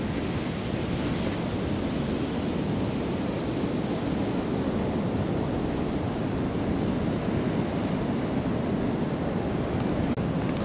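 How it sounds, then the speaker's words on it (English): Ocean surf at a California beach beside a thin lagoon gives a continuous broad wash of rolling waves, steady and moderately loud with some wind buffeting, and nobody speaks. "Coming up to the beach and I'm on the beach, coming up to the ocean."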